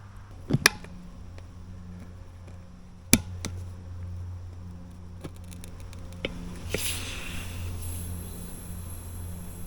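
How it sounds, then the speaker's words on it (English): An inner tube pinches and pops while a tire is levered off a rim outdoors on dirt, a few sharp cracks and clicks over a low steady hum, followed by a brief hiss. "I just pinched that tube and popped it"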